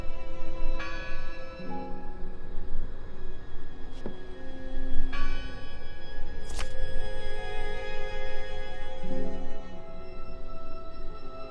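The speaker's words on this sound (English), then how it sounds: "Listen! The bell! They're still in there!" A church bell rings in the video game Draugen, sounding a few slow, separate strikes whose ringing tones linger and overlap against a steady ambient background.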